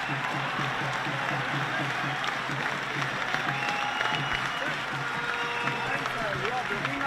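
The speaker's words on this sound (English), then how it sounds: "Watch the crowd erupt as he makes his way towards the grandstand." A grandstand crowd at a Royal College versus Trinity College Bradby Shield rugby match applauds and cheers a player walking off the field, a steady dense roar of clapping and voices throughout.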